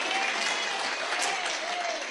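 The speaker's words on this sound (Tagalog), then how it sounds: "Palakpak ni Jesus." A church congregation claps together in dense, sustained applause, close and lively, with a faint voice beneath.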